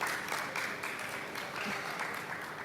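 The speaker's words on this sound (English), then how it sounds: "A round of applause, please." Conference audience at an energy sustainability event applauds a panelist, a short, fairly faint burst of mixed clapping that stays even throughout, with a hint of a voice underneath.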